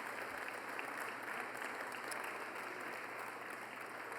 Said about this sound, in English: let's give a round of applause to all the volunteers who put on this event